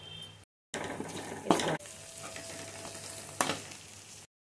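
Mutton fry sizzling in a pan while being stirred and turned over, a soft, fairly quiet crackling sizzle with a couple of louder scraping stirs and one brief gap near the start.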